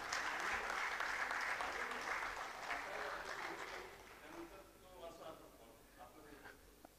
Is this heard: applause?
yes